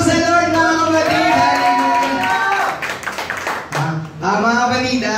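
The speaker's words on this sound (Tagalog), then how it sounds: "Palakpak sa Lord, mga kapatid." Congregation clapping during a Sunday praise and worship service in church, a rough wash of hands and cheers rising under a loud singing or shouting voice, briefly clearer in the middle before the voice returns.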